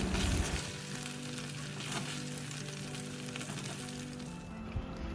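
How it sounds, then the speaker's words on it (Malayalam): Chicken pieces fry in a hot pan for a honey lemon chicken dish, a steady, dense sizzle that holds close and loud throughout with no voices. "ചിക്കൻ ഇപ്പോൾ നന്നായിട്ട് ഫ്രൈ ആയിട്ടുണ്ട്"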